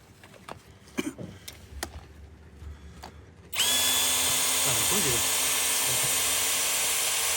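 DeWalt power tool driving a screw, kicking in suddenly with a loud sustained whine after some quiet clicks and handling noises; voices talk nearby.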